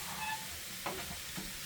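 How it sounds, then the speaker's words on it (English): Onions for a Philly cheesesteak land on a hot griddle and sizzle with a steady hiss, marked by a couple of soft stirring scrapes, close and moderately loud. "I'm just throwing some onions on top."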